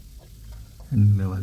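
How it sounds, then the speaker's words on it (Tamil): Vegetables for a vegetable dal curry sautéing in hot oil make a short burst of close sizzling and stirring, growing louder toward the end. "எண்ணெயில் ஒரு நிமிஷம் வதக்கிட்டு"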